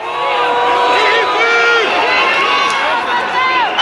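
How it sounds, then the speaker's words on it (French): A crowd of several hundred people massed outside the Brussels courthouse reacts loudly, with shrill whistles, jeers and shouting forming a dense, continuous roar close by. "Huées, sifflements, cris de haine, les réactions sont très vives."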